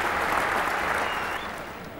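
A cricket crowd at a 1990 New Zealand versus England Test applauds Richard Hadlee's innings with sustained, dense clapping that eases off slightly toward the end.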